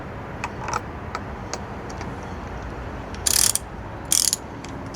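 A hand ratchet clicks in sparse, irregular ticks as an iridium spark plug is threaded in, with two louder bursts of rapid ratcheting near the end, close and alone.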